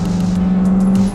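A 1991 Toyota MR2, a low-horsepower mid-engine car, rotating in a skid: a steady droning engine note with broadband tire and road noise, loud and close, unbroken for about a second.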